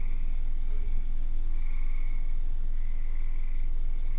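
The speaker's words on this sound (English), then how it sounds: "Can you guys hear the tree frogs and stuff out there?" Tree frogs calling outdoors at night, a dense, steady chorus of high trilling and chirping that carries on unbroken and moderately loud throughout.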